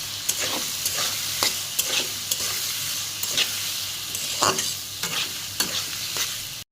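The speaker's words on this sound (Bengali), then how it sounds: "পেঁয়াজটা লাল লাল করে ভাজবো" Onions frying in oil and being stirred until browned, a steady sizzle with repeated scraping stir strokes at an irregular rhythm, close and alone with no voices.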